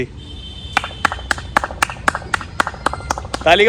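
Hand claps echo through a sound-tube exhibit at a science park, about a dozen sharp, evenly spaced claps ringing with a hollow resonance, with people talking faintly around them and a louder burst of voice at the end.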